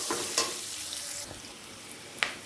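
Onions frying in a pan with a little salt and turmeric, a soft steady sizzle with a few light scrapes of stirring, close and fairly quiet, no talking.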